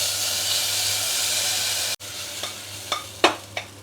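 Cracked wheat roasts in ghee with a dense, even sizzle that stops suddenly halfway, followed by a few distinct stirring clicks and scrapes over a quieter hiss.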